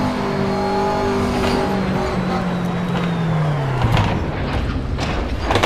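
A McLaren MP4-12C GT3 race car in the racing game Assetto Corsa, lapping Circuit St-Jovite at Mont-Tremblant: loud, continuous engine drone with pitch sweeping down through gear and throttle changes, no pauses.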